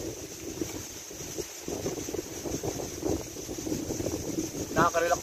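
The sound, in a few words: strong wind at the sea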